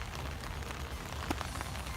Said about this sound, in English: It is currently raining and also pitch black outside.